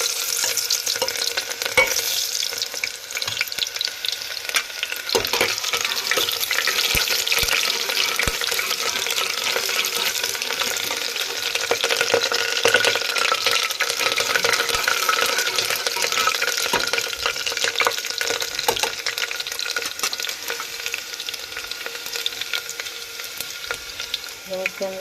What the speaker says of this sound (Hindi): ये हमारा ऑयल गर्म हो चुका है। इसके अंदर हम ये प्याज ऐड करेंगे।